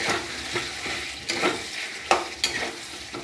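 Curry with sour yogurt stirred in a pan: a spatula scrapes in several distinct strokes over a continuous sizzle, close and fairly loud, and no one speaks.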